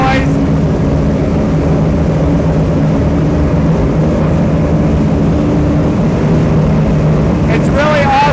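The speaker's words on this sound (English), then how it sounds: "That awesome Honda engine back there, making all that noise." A Honda Indy racing car engine roars loudly and steadily throughout with a constant low hum, and a voice briefly cuts in near the end.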